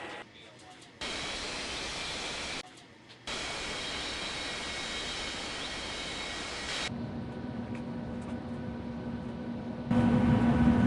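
Airliner on final approach to land in an air traffic control game, a steady broadband jet roar that holds across the clip with short gaps and a rising hum near the end, no talk.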